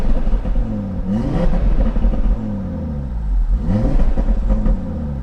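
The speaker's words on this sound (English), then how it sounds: "This car has such a phenomenal exhaust note." A 2019 Audi RS3 with an APR Stage 2 tune, catless downpipe, catless mid pipes and valved exhaust revs twice. Each deep rumbling pull sweeps up and falls back, loud and close.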